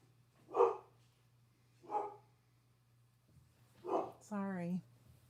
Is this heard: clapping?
no